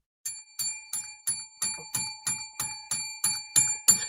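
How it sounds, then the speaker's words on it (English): A small bell on a sports talk show rings in quick regular dings, about eleven even strikes that get slightly louder toward the end, with no talking over them. "you don't care as much about the bell"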